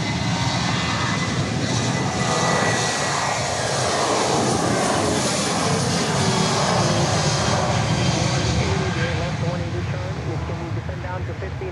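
Jet airliner engines roaring steadily and loudly through the whole stretch, a broad constant rumble of a departing flight to Birmingham at Dallas Love Field, with voices talking underneath.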